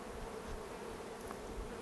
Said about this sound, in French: un abat d'abeilles sur le sol, derrière les ruches